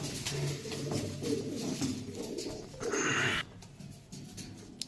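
A female racing pigeon coos softly a few times against a faint outdoor background, followed by a short burst of rustling or fluttering.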